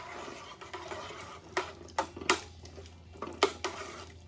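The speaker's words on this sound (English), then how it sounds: "Give it another stir." Spoon stirring fresh green beans in a pot with onion soup mix, several sharp metallic clinks and scrapes against the pot in an uneven rhythm, close and fairly quiet.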